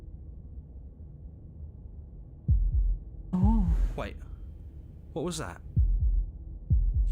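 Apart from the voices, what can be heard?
heartbeat sound in the video game Slay the Princess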